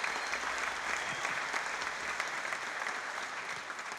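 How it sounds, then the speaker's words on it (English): Steady, dense applause from a large audience fills a concert hall at an anniversary concert for a music academy, held in a city hall, continuous and even without pause. "Yeah, that does deserve a round of applause."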